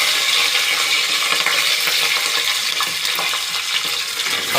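Fenugreek, curry leaves and green chillies fry in hot oil in a pan, giving a loud, steady, close sizzle with faint crackles throughout and no talking.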